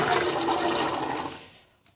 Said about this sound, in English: I'm just going to transfer my chickpeas, that's noisy, into this pan